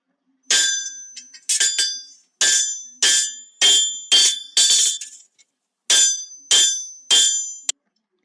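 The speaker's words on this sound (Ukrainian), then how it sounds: "Ви впізнали за звуком, як працює коваль у своїй кузні, і його молот стукає по металу" A blacksmith's hammer rings sharply on metal in a forge in a steady series of bright, clanging strikes, about a dozen blows with short pauses, close and alone.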